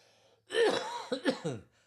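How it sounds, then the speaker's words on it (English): A short fit of coughing, a few quick hacking bursts close to the microphone, with quiet before and after. "coughing a little bit"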